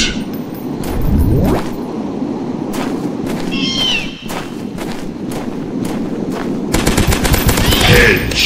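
Gunfire from the dinosaur-hunting video game Dinosaurs Hunter: several sharp shots scattered through the clip, with a denser rapid burst near the end, over a busy game soundscape with rustling and creature calls.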